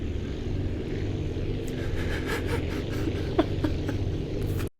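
Propeller aircraft engine in the Aviassembly flight game throttling up, a steady low droning hum with rising buzzing overtones and a few clicks before cutting off abruptly at the end.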